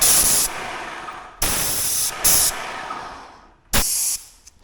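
A Magnum X5 airless paint sprayer lays thick paint on the underside of a vehicle. Four sharp, close hissing bursts of varying length start and stop abruptly, separated by short pauses, with no talking.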